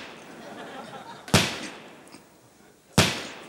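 A loud gunshot sound effect fires twice, sharp cracks about a second and a half apart over quiet background murmur.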